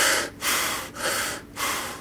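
Breathing drawn in and out through a running mask brace that has an extra cut-down near the nose, with several close, airy breaths in an even rhythm separated by short pauses.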